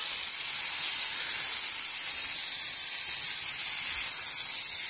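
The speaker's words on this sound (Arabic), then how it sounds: "من بعد ما سخنت غادي ندير فيها واحد شوية ديال الزبدة" Butter melting in a hot pan for crepes, a steady, bright hiss of sizzling fat held evenly throughout, close and fairly loud with no talk.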